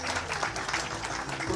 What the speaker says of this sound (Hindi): आप लोग जोरदार तालियों से उनको